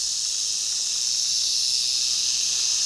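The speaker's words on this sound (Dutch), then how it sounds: "Als ik het zo zie, denk ik Crotalus viridus, prairie ratelslang." Several warmed-up prairie rattlesnakes (Crotalus viridus) rattle and move, giving a steady, close, dense hissing buzz that runs unbroken from start to end with no voices.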